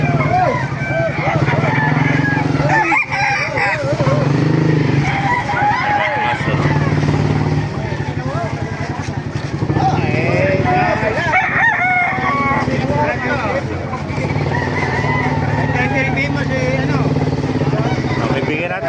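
Roosters crow repeatedly while chickens cluck throughout at a market in Baliuag, loud and close, with people talking and a passing engine in the background.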